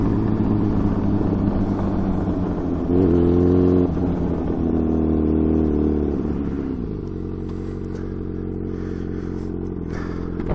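A Suzuki motorcycle engine drones loud and close while cornering, its pitch rising and falling through the bend, ending in a steadier lower rumble, with no talking over it.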